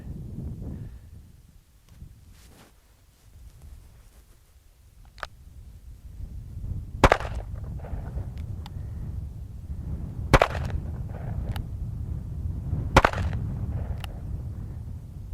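Shots from a Ruger New Vaquero .357 revolver with a 4-inch barrel crack out outdoors: several sharp, separated reports spaced a few seconds apart over low wind rumble, fairly distant and not very loud.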